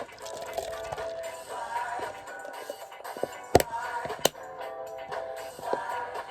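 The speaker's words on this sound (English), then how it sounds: "Pour it straight in." Nitro Irish stout being poured straight into a glass, a soft liquid trickle and fizz with a couple of sharp clinks, fairly quiet and close.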